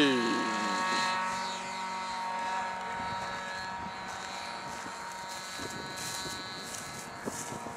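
A small propeller airplane's engine drones steadily during a solo takeoff at Santa Cruz do Rio Pardo, a sustained tonal hum with shifting harmonics and people speaking over it.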